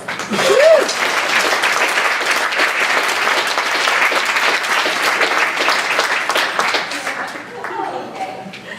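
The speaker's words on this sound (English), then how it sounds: "Please give Sienna a huge round of applause" A theater audience applauds a final evening performer at a storytelling event, steady dense clapping that swells loud at the start, carries on evenly, then thins and fades near the end, with a brief vocal cheer early on.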